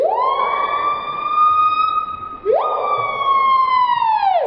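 A slowed-down hawk-cuckoo call that sounds like a siren: one long rising-then-steady wail, a quick upward sweep, then another sustained tone that falls away, loud and alone.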